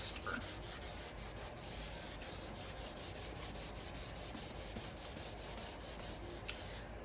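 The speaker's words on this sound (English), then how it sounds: "Let's see about rubbing it off if it's going to be any faster." Paint being rubbed off furniture after soaking in a wet distressing test, a steady faint scrubbing and rasping close by with no talking.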